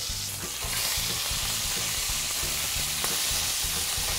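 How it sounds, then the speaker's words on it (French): Chunks of beef sear in a hot pan with a loud, continuous, even sizzle and hiss that holds steady, along with a faint low rhythmic hum underneath. "Le fait de bien saisir la viande de tous les côtés marque une belle caramélisation"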